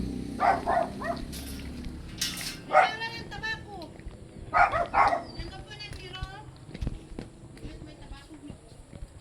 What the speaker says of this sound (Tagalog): Yan, yung malaking aso namin dito